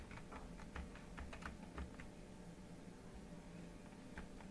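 Light keystrokes on a computer keyboard while an ID number is entered into a spreadsheet cell: a quick run of faint taps early on, then a lone tap near the end, over a steady low hiss.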